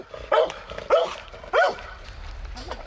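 A puppy gives three sharp, close barks in quick succession on an outdoor animal call, with a faint whimper trailing off afterward.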